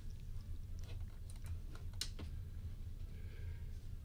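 Typing on a Microsoft keyboard, with a steady run of fairly quiet key clicks under a low background hum and no talking.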